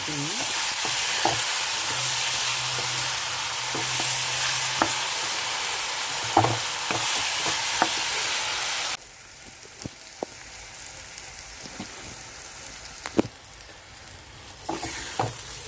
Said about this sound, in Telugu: వేగిపోయినాయండి అటికాయ ముక్కలు